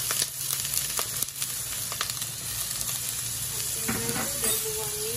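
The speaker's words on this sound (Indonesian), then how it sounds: "kita taruh bawang bombay" Chopped onion sizzling and frying in olive oil in a pan, a steady close crackle with a few clinks of stirring, no talk.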